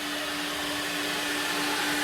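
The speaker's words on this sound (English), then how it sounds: "vacuum 3 is running" A car wash vacuum runs with a steady, loud motor whine and airy roar, close and unbroken throughout, with no talk.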